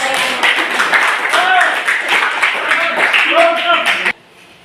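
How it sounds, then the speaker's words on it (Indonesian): Classroom applause after a student group's presentation, a few seconds of clapping with voices and chatter over it that cuts off abruptly near the end. "Oke, berikan aplaus"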